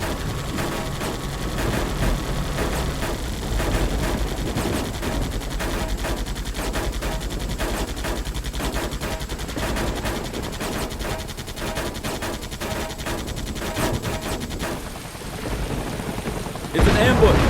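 Enemy gunfire in an ambush in Air Conflicts Vietnam rattles in rapid, steady machine-gun bursts over a droning engine for a long stretch, ending in a sudden louder burst.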